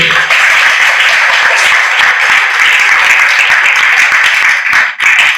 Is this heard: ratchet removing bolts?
no